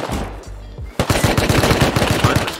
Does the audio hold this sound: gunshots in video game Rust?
yes